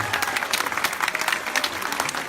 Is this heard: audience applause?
yes